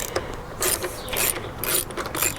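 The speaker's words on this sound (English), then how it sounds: "But what I do with my wrench, the next thing is going to be removing these." A ratcheting wrench clicks in quick bursts while removing bolts on a Yamaha TW200 rear rack, close and crisp with short pauses between strokes.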